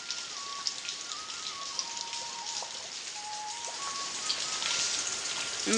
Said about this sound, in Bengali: এত বৃষ্টি হইতেছে